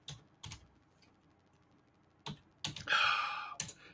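Keys clack on a computer keyboard in scattered bursts, first a few isolated clicks, then a quicker run of typing near the end, close and fairly quiet.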